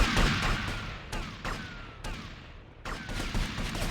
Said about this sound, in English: This time, just blast him first. Shoot him!